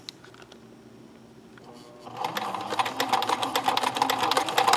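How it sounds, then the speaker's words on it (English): A sewing machine runs a zigzag stitch along a baby bib. Quiet handling comes first, then the motor starts up into a steady, fast, close whirring chatter. "I'm going to use a zigzag stitch to put this on"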